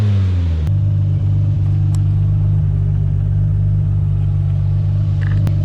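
A drift car's engine rumbles loudly and steadily at a Slovenian national drifting championship event, with a low droning tone after an initial shift in pitch and faint clicks over the top.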